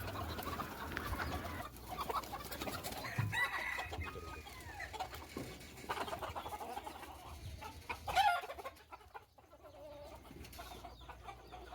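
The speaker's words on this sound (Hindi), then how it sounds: "ये भी बड़े वाले मुर्गे बाहर आ गए" Hens cluck and a rooster crows among a busy flock, several birds calling over one another at close range, with a brief louder burst near the end.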